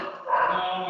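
A pet dog makes a steady, drawn-out vocal noise close by indoors, a single continuous sound lasting about a second rather than separate sharp barks.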